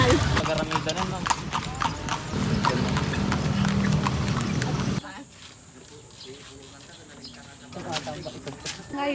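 Horse hooves clip-clop steadily as a horse pulls a kalesa carriage through the streets of Vigan, Ilocos Sur, the rhythmic hoofbeats close and clear, with voices talking over them.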